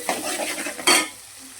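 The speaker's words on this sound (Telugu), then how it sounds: "ఇప్పుడు ఆయిల్ హీట్ అయింది కదా, ఇందులోనే ఆనియన్స్, ఇందులో కాస్తంత ఉప్పు వేసుకొని ఇలా కలిపేసుకోవాలి ఒకసారి" Onions with a pinch of salt stirred into hot oil in a pan for dry fish tomato curry, a short scrape and sizzle with a sharp burst of frying near the end, no talk.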